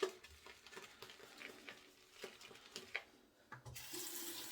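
Water trickles and splashes while Mystic Water bay rum shave soap is whisked and mixed, with soft wet stirring and dabbing sounds, then a steadier hiss of running water near the end.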